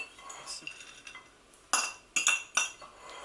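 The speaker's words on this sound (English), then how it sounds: "Just mix it all together." A spoon stirs spices, butter beans, dried fruit and other ingredients together in a bowl, giving a few short, close scraping clinks of metal against the dish, with faint room noise between them.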